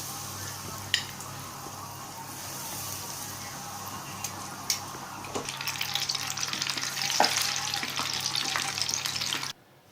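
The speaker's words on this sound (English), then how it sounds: "Fry it in a deep oil" Breaded Sri Lankan chicken rolls deep fry in hot oil with a continuous crackling sizzle and occasional pops, growing busier before cutting off abruptly at the end.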